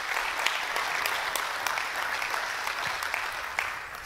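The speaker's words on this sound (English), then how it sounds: "let's welcome her with a warm round of applause" Conference audience giving a speaker a steady round of applause before a talk on unmanned aerial vehicles, a continuous, even wash of clapping from a fairly distant crowd.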